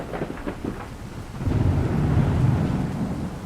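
A thunderclap sound effect in a Bengali village horror audio story: a deep rumbling crash swells in after a brief quieter patch and rolls on loudly to the end, with no speech.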